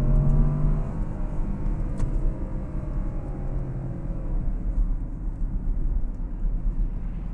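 A car accelerates along the road with a steady, continuous engine roar and road noise throughout, fairly loud and close, with no voices.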